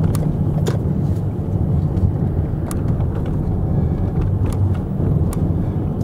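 A car drives along on a sunny, cold morning on the way to the gym, its steady low engine and road rumble continuous and close, with occasional faint ticks and bumps over the drone.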